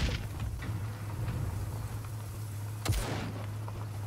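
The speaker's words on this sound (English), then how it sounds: "Oh, that's frag grenade, isn't it?" A frag grenade explodes in the Call To Arms war game as one sharp, short burst near the middle, set against a steady low hum and a scattered gunfire backdrop.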